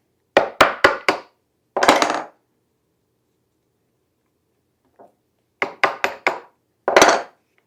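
A chisel struck with a hammer to split wood along a parting line for a sawing machine table: two separate runs of four sharp metallic taps, each followed by a heavier blow, with a faint tick between them.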